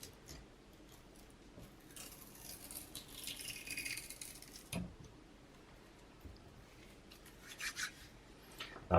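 Old foam tape being peeled and scraped off a Strathearn Audio SLC3 speaker magnet, faint rubbing and scraping in uneven bursts, close up, with a few small clicks and a sharp knock.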